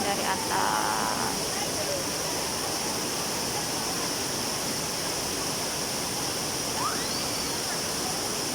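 Serambang waterfall pours in a steady, dense broadband roar at close range, filling the whole scene without pause, with a brief faint bird-like chirp above it.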